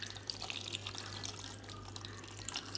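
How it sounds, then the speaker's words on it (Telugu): Tamarind juice is poured into a sweet potato curry as a soft, steady trickle of liquid close by, quiet and continuous with faint drips. "చింతపండు రసంని యాడ్ చేసుకోవాలి పులుపుకి తగ్గట్టు."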